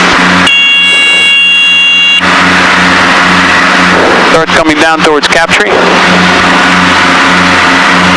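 Engines of a Piper Seneca twin-engine aircraft drone steadily in flight with a constant loud hum, while a voice speaks briefly over the engine noise.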